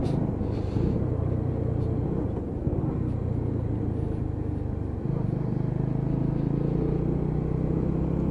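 A Lexmoto ZSB motorcycle rides through town at a low, steady engine rumble. The tone shifts partway through as the revs change, and the whole pass is moderately quiet with no talk over it.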